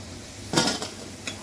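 Crisp fried cauliflower florets for gobi Manchurian rattle and scrape in a pan in two short bursts, a sharp clattering stir over a faint background sizzle.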